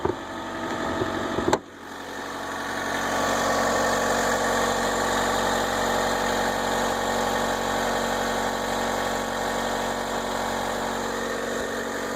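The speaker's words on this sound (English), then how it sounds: "So that's the engine running." Gasoline engine of a 2012 Chevy Volt starting up and settling into a steady, close idle hum that holds for several seconds.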